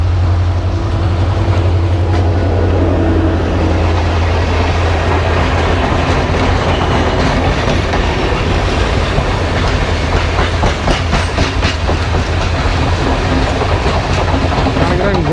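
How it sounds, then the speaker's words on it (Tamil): A local train in Colombo, Sri Lanka rolls past close by, with a loud, continuous rumble and rapid clickety-clack of wheels on rail joints that builds and persists throughout. "இது லோக்கல் ட்ரெயின்."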